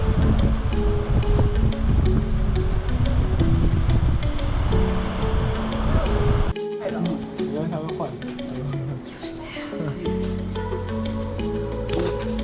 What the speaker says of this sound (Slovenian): Danes je kar nekaj vetra, valovi, zgleda čisto morje.